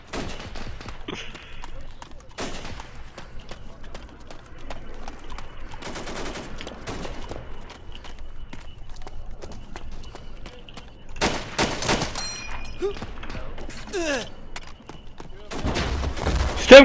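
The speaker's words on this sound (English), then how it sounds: "I'm getting shot at!" Gunfire and machine-gun bursts from the Arma 2 video game during a co-op D-Day mission, with scattered shots and dense volleys spread throughout, some loud and close, alongside people talking.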